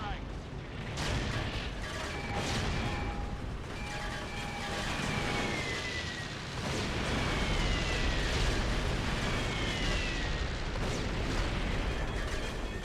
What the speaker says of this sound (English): you're gonna get an airstrike